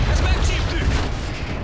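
Tank cannon fire from a Panzer III/IV in the World of Tanks video game: a dense, continuous roar of gunfire and rumbling blasts, loud and steady throughout the short stretch.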